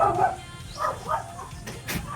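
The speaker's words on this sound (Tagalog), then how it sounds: "Uy, may aso pa naman. Ay, may aso." A dog barks near a church construction site where building materials are being delivered, giving several short, close barks spaced unevenly across the moment against faint background noise.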